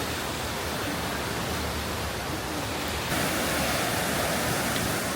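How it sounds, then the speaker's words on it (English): Rushing water of a rapids ride through a canyon at Six Flags Fiesta Texas, heard as a steady, loud broadband roar that grows a little louder partway through, with no talking. "I kind of want to do this rapids ride that goes through the canyon and whatnot."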